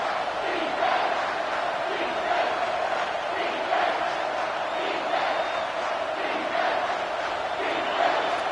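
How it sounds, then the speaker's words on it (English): A packed college football stadium crowd roars on a defensive third down, a steady dense wall of cheering and yelling with rhythmic swells, heard at a distance and without clear talk over it. "this crowd will blow out a vocal cord to help this defense"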